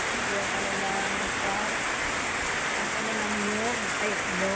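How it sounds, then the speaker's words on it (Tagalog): Heavy rain pours down in a steady, loud hiss that covers everything, while faint, indistinct voices sound in the background. "Hindi na tumitigil ang ulan talaga."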